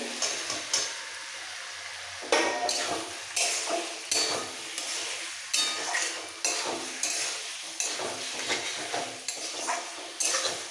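Fried pointed gourd and potatoes stir-fried with spices in a pan: a steady sizzle broken by repeated rhythmic scrapes and knocks of a spatula against the pan, close and fairly loud.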